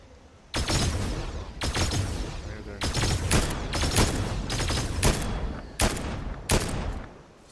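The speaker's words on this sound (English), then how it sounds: "I'm shooting him right now." Gunshots in the battle royale shooter Fortnite: a burst of about eight sharp, loud shots in an irregular rhythm, some doubled in quick succession, each ringing out with a short tail.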